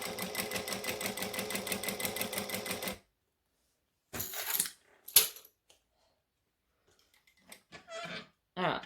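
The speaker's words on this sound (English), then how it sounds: "I'm just stitching 1/8 of an inch from the edge, and I'm going slowly" A home sewing machine stitches fabric near the edge at slow speed, giving about three seconds of rapid, even needle clatter. It then stops, and scattered light handling clicks and rustles follow.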